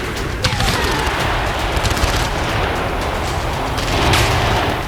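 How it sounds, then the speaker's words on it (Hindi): Rapid bursts of automatic gunfire with booming blasts during the terrorist attack on Crocus City Hall in Moscow, loud and dense throughout with continuous crackling shots and no speech. "ताबड़तोड़ गोलीबारी, ग्रेनेड अटैक से मॉस्को के क्रॉकस सिटी हॉल को दहलाया"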